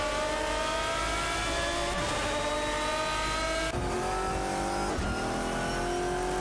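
An Aston Martin DBR9 and a Lamborghini Murcielago RGT race in a video game, their engines droning steadily at high revs, with rising and falling pitch sweeps as the cars shift and pass, loud and continuous.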